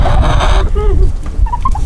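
Backyard chickens cluck and call in short bursts close by, with a busy, noisy outdoor background and some rustling around them.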